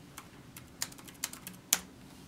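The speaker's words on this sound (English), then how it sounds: "And I can mash my keyboard," Keys on a computer keyboard are tapped during a character LCD test, sparse close clicks at uneven intervals with one louder final press, and no speech.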